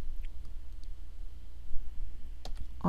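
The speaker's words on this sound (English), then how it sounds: "this time I'm going to use the keyboard shortcut" Computer keyboard keys pressed for a shortcut, a few sparse light clicks near the end over a quiet low hum of room noise.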